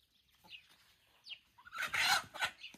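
Faint chicken clucks and squawks at a distance in a village, followed by a louder, harsher burst of rooster calling in the second half.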